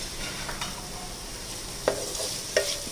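Mutton curry with gongura and fresh mint being stirred in a pan over steady sizzling, with a couple of sharp scraping strokes of the spoon standing out near the end.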